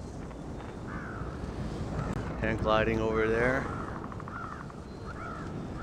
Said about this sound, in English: Some birds.